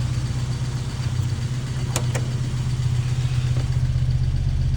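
A road-legal racing car with a standard 1275 A-plus engine idles steadily and close by, a low even rumble with a couple of brief sharp clicks partway through; no one speaks.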